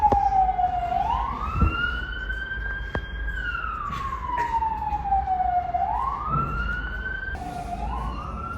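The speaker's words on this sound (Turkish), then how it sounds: "arada çok fazla trafik sesi gelebiliyor. Özellikle ambulanslar falan geçerken" An ambulance siren wails, rising and falling in slow sweeps, moderately distant, over a steady rumble of street traffic.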